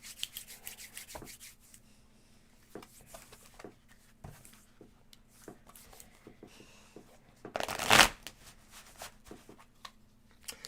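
Tarot cards being shuffled by hand in quiet, light riffling and rubbing strokes scattered through the stretch, with one louder burst of shuffling near the end and no voices.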